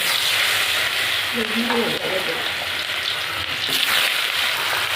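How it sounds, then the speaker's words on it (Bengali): Potatoes fry in a hot pan with a steady, loud sizzle throughout, a faint voice briefly audible beneath the crackle. "এবার আলুগুলো ভেজে নেব"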